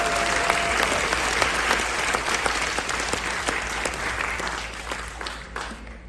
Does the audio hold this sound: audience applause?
yes